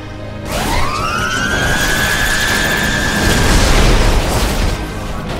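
A tower blows up as it is destroyed in StarCraft 2, a loud boom with a rising, ringing whine that holds steady through a sustained rumbling blast.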